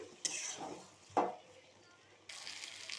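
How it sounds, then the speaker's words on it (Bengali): Goat liver curry being stirred and sautéed in a pan after water is added, with faint sizzling and a couple of short spoon scrapes against the pot, quiet and close. "এই যে জল দেওয়ার পরে দেখুন আবার আরেকটু কষাচ্ছি"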